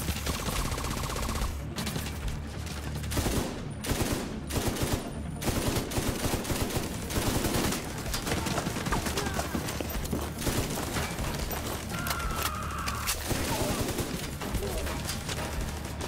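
Sustained gunfire from a player's primary weapon in the shooter game The Division 2, dense rapid shots and bursts that keep going throughout amid loud combat noise.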